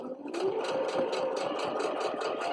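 A sewing machine stitches carefully over a bulky seam on a wet bag for cloth pads, giving a close, steady mechanical whir with a quick rhythmic needle beat.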